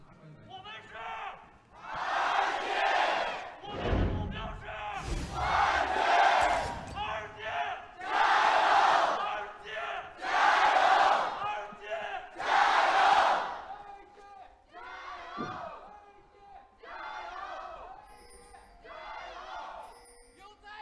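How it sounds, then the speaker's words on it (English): Arena crowd at a 2018 LPL League of Legends esports match between Vici Gaming and Royal Never Give Up, chanting for RNG in loud rhythmic waves of massed voices with brief pauses between bursts. "Crowd's still definitely hungry and behind RNG."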